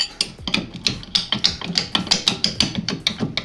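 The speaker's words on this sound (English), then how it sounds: "Get yourself a flat screwdriver or pry bar, whatever you've got. Just pry this off." Sharp metallic knocks and scrapes repeat in a quick, fairly regular rhythm as a pry bar or flat screwdriver works a part off a 2005/06 Honda Civic rear brake caliper, close up and with no talking.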